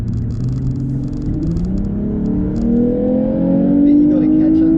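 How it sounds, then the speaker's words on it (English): A Lexus IS350 F Sport accelerating from a light tap of the gas, its engine note rising in pitch as the revs climb in a steady, building rumble heard from inside the cabin, growing louder toward the end. "So if I want to leave, I just tap the gas. You hear the difference in the sound in the 350 F Sport."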